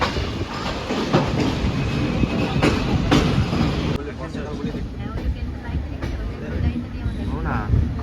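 A passenger train runs on rails through the Araku valley with a continuous loud rumble and rattle of carriages and faint rhythmic wheel clatter, heard from on board, while people talk over it.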